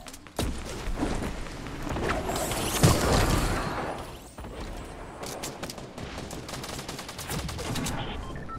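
Gunfire in a Fortnite Battle Royale match: a steady, dense volley of shots and impacts with a few louder cracks, continuing throughout at moderate loudness.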